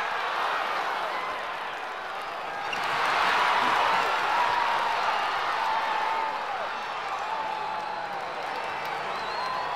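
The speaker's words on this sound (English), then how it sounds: "this is a great opening day crowd" A large video game crowd at an opening-day race in Cars Mater-National roars and cheers continuously, swelling louder for a few seconds in the middle before settling back to a steady din.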